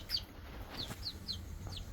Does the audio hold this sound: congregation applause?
no